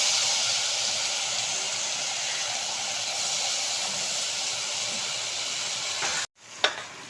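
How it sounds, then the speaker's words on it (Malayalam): Steady hiss of marinated chicken frying in masala in a pan, a continuous sizzle that cuts off abruptly near the end, followed by a brief clatter. "ഇനി അതിലേക്ക് നമ്മൾ നേരത്തെ പിടിപ്പിച്ച ചിക്കൻ ഇടുകയാണ്."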